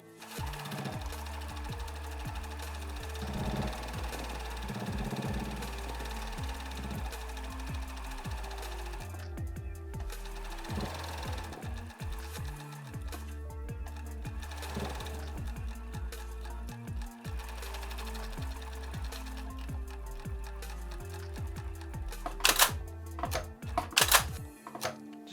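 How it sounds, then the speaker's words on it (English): A cover stitch machine runs in repeated bursts while hemming the folded bottom of a basketball jersey, its motor rising and stopping with short pauses between runs and a few sharp clicks near the end. "We're going to use this machine, and hemming is just, folding the bottom of the shirt, and we'll sew it together using this cover stitch."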